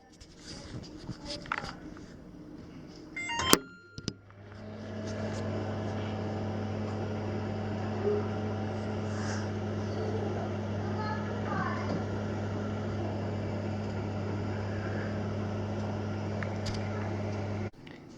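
A microwave oven running on a 30-second setting to heat a pizza, a steady low hum starting a few seconds in and holding evenly to the end, after some brief handling noises.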